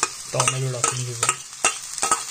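Tomatoes frying in a pan with curry leaves, a close crackling sizzle broken by several sharp scraping stirs of a utensil against the pan, a short burst with no voices.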